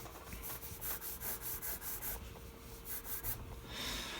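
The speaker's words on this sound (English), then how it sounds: "I'm drawing this line." Pencil drawn by hand across paper in a sketch, giving a faint, quiet scratching with a rhythm of repeated short rubbing strokes, alone and without talk.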